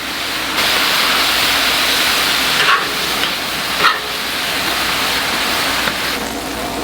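Ground turkey, 85/15, sizzles in a hot pan with a loud, continuous broadband hiss, broken only by a few faint clicks and pops.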